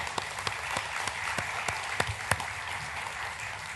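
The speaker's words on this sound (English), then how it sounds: "So, yay, round of applause" Applause at a high school enlistee recognition ceremony: a steady wash of clapping from a sizeable audience, with a few sharper individual claps popping out over the even roar throughout.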